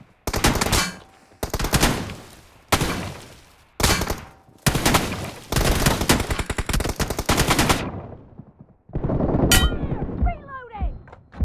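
Video game gunfire from a battle royale match, long rapid automatic bursts separated by short pauses, loud and close, ending in a few scattered shots and clanks.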